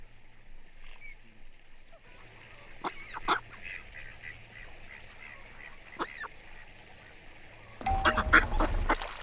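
Ducks call in short scattered nasal quacks and honks while being fed, with a burst of louder mixed noise at the end.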